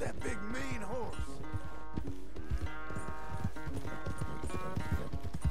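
Horse hooves clip-clop steadily during a ride in Red Dead Redemption 2, loud and continuous under game music and voices talking.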